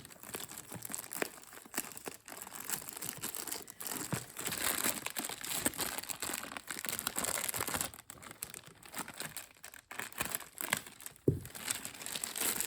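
Paper packaging around a BellSouth VTech BS2425 2.4GHz cordless phone is unwrapped, giving continuous close crinkling and crumpling with a few sharper tears, steady and unbroken with no voices.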